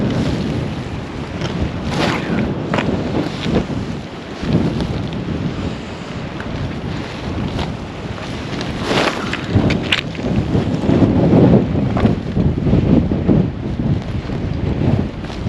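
Strong wind by the River Findhorn buffets the microphone in continuous rumbling gusts, swelling and easing over time, loud and close with no talking.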